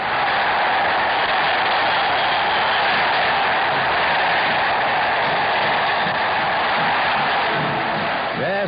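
Football crowd celebrating at the Mineirão stadium in Minas Gerais: a dense, continuous roar of fans cheering throughout, loud and steady, with chanting voices swelling near the end.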